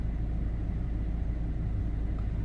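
A Volvo V50 with a 1.6 diesel engine, being checked for a blocked particulate filter, idles with a steady low rumble heard continuously at close range, with no speech over it.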